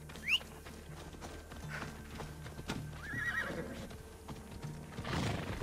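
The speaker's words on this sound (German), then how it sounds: "Reiten wir los, Phobos." A horse in Assassin's Creed Odyssey gives a brief neigh and then clip-clops its hooves at a walking pace, with a second whinny near the end.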